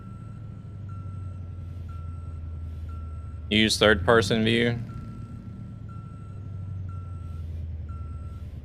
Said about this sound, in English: Listen to that truck. It sounds awful.